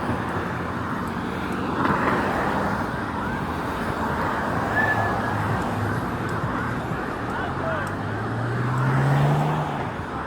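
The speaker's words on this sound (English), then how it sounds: "Look at the amount of cars that show up now" Cars passing on a road, a continuous wash of traffic noise with one vehicle swelling louder toward the end, heard from a moderate distance.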